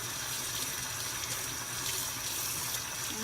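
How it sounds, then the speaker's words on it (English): Tap water runs steadily over a freshly gutted fish as its insides are rinsed out, a continuous close gushing splash with no pauses and no voices. "Now just keep rinsing it out. Rinsing out the guts."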